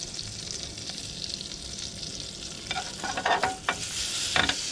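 Chili garlic butter sizzling and crackling in a hot pan, a steady frying hiss with sharper pops and stirring scrapes growing busier toward the end.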